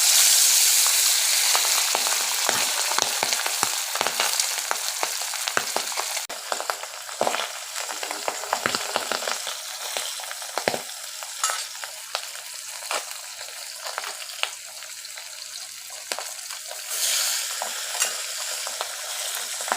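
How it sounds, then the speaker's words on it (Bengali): Pabda fish sputter in hot mustard oil in a karahi, a dense, close sizzle full of sharp pops and crackles that stays loud throughout and slowly settles, with no voices. "পাবদা মাছটা ভাজার সময় একটু ফোটে।"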